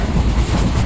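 A train travelling from Karaikudi Junction to Trichy Junction rumbles steadily along the rails, with a continuous low, dense rolling noise close by and no talk.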